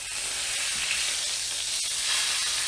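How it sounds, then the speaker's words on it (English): A smoked, Texas-style reverse-seared ribeye steak sizzling on a hot surface, a steady, bright hiss with faint crackles throughout, no voices. "Let's sear the sides now."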